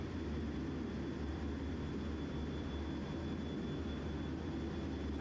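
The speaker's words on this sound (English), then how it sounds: "Another jet going off the waist." A navy jet on an aircraft carrier deck gives off a steady, distant jet roar and rumble with a faint high whine, forming a continuous wash of noise with no speech.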